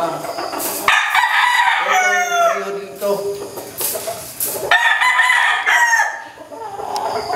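A fighting rooster crows loudly nearby, several long calls overlapping with clucking fowl and some background voices.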